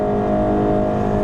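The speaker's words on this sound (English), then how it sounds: "Kicks the gas engine on right away." A 2020 Honda CR-V Hybrid's gas engine kicks on under hard acceleration, giving a loud, steady droning hum with layered engine harmonics, close up inside the cabin.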